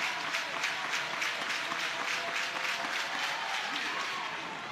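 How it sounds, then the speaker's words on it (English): Applause rises from the crowd at a college baseball game between the Sooners and Cal, with steady clapping and cheering spread across the stands and continuing for several seconds. "The Sooners crowd getting behind Sam Landry."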